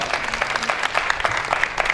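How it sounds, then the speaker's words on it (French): Audience applause for a woman at a ceremony, a moderate crowd clapping with distinct individual claps in an even, sustained patter. "j'aimerais que vous applaudissiez une fois encore pour cette dame-là de grand cœur"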